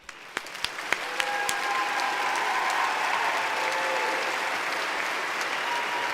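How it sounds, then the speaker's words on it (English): A crowd at a live comedy-style show applauds at length: a few sharp individual claps build quickly into a dense, sustained wash of clapping that holds steady without letting up. "This applause is so long and unwarranted."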